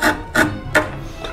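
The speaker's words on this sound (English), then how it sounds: "So now I'm using a bench chisel here to" Bench chisel paring wood out of a dovetail joint, three close, brief scraping strokes with a faint fourth at the end, no voices.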